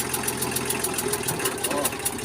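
Engine of a Kubota L2000 small tractor running steadily and loud throughout, a continuous mid-pitched drone with rapid regular firing pulses as it is revved under power.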